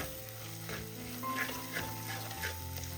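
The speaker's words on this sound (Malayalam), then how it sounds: "ഈ പൊടിയുടെ പച്ചമണം മാറുന്നവരെ ഒന്ന് ഇളക്കി കൊടുക്കാം" Kashmiri chili and turmeric powder are stirred in hot oil with a loud, continuous frying sizzle and occasional scraping strokes of the spoon. No one speaks.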